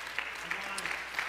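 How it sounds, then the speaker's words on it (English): A church congregation breaks into a short burst of hand-clapping applause, loud and close, filling the brief moment. "Can we just give the Lord just another hand clap for that?"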